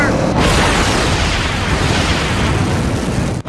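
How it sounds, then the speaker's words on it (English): Rocket engines roaring at full thrust in the Tales from the Borderlands video game, a loud, dense, continuous blast with a sharp onset near the start that holds steady before cutting off abruptly at the end. "Now turn them other rockets up to 11."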